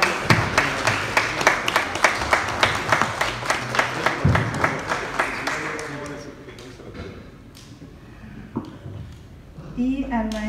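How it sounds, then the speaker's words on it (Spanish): An audience applauds a book author at a book presentation in Lerdo de Tejada, Veracruz, Mexico: dense rhythmic clapping for about six seconds, then thinning into scattered claps with a few voices. "Y un fuerte aplauso al autor por esta gran aportación al Estado de Veracruz y a México, a Gustavo Vergara Ruiz"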